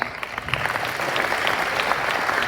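A hackathon pitch audience breaks into a dense, steady round of applause that fills the room evenly for a couple of seconds.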